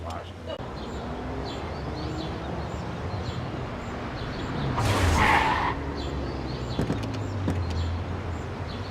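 A car in the Mafia game skids, with a short, harsh screeching burst standing out over a steady background of engine drone and ambient noise.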